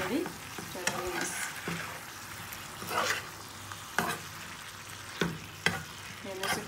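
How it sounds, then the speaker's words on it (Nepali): Potato, cauliflower and pea curry sizzles in a pan while a spoon stirs and scrapes it, leaving irregular sharp clinks over a soft steady fry. "र एकपटक राम्रोसँग नुन लगाइदिँदै चलाउनुहोस्।"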